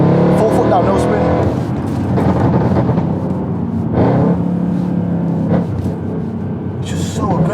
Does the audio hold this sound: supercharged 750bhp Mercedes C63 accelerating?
yes